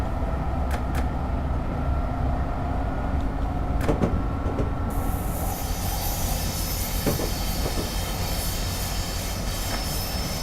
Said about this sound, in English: here's another train coming down here.